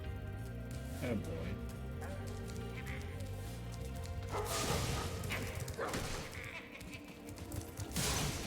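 Sheep bleating in the video game Spyro Reignited Trilogy, a few short bleats over continuous game music and ambience, with other game effects and a dog-like sound mixed in.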